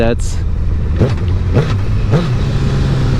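A Honda CBR1000RR sportbike engine idles loudly up close, then gets three quick throttle blips that rise and fall in a steady rhythm.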